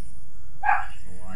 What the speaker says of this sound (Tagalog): Nangangaway na yung aso ni anak.